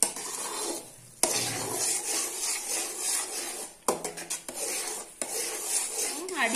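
Thick jackfruit halwa is stirred in a pan with a spoon, giving repeated scraping and sticky, soft sizzling sounds with a few sharp clacks of the utensil against the pan, close and fairly quiet, with no talking.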